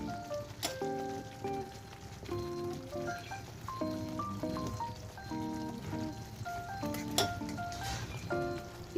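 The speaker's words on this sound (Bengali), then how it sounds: "আপনারা চাইলে আলুটা ভেজে নিতে পারেন।" Cut potatoes fry in hot oil with a gentle, steady sizzle and crackle, quiet and close, with clinks from a utensil stirring in the pan while jackfruit curry is being made.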